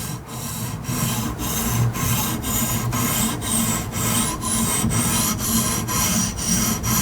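A knife being sharpened on a diamond whetstone with a guided system using the push-pull method, producing a steady scraping rasp in regular back-and-forth strokes, close and loud, with no talking.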